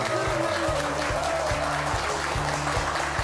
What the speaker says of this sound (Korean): 여러분 뜨거운 박수로 부탁드립니다